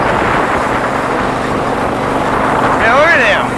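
A Craftsman riding lawn tractor engine runs in a steady, rough drone that holds throughout, with people talking over it.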